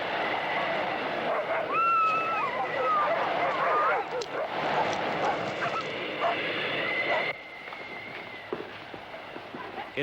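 Dogs barking and yipping at an Antarctic base at feeding time, sharp repeated barks and whimpers under steady wind and background noise, with voices talking throughout.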